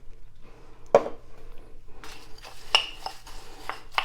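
Ritz crackers being mixed with butter in a bowl for a cheesy asparagus casserole topping, heard as a sharp utensil clink followed by scattered scraping and knocking of dishware, close and fairly quiet with no talking.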